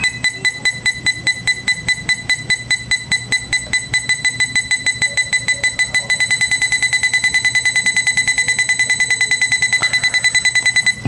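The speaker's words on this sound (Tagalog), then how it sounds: "Tapos habang mas lumalapit, mas bumibilis yung tunog ng buzzer." An eight-sensor car parking sensor buzzer beeps in short regular pulses that speed up into a rapid, near-continuous beeping as the car gets closer, loud and close.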